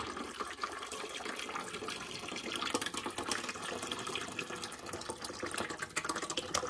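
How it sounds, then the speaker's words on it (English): Tap water runs into a bottle being filled for descaling a Keurig B70 Platinum brewer, a steady splashing gush that sounds fairly quiet and slightly distant, with no voices. "So I'm just filling it up with water"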